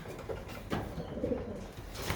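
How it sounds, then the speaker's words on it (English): Soft, low cooing from a brown grizzle breeding pigeon repeats a few times in quick murmuring phrases over a faint steady background hum. "Over here is another one of my pigeons"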